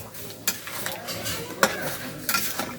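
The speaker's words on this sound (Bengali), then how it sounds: "দেখেন কীভাবে নাড়ছি বন্ধুরা আলুটা দিয়ে দিলাম" Potatoes stirred into a cooking pot, with scraping and clinking of a utensil against the metal at irregular intervals, a few sharper knocks standing out over a soft sizzling background.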